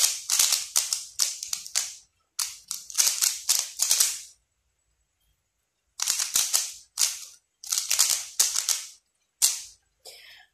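A Qiyi Mofangge Rubik's cube being turned rapidly, producing bursts of quick clicking clatter in several runs separated by short pauses, close and without talk.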